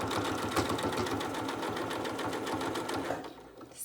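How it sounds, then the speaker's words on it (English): A sewing machine stitches a stretched fabric band at a fast, even rhythm of close mechanical pulses for a few seconds before slowing to a stop. "stretching as you're stretching that band as you're sewing"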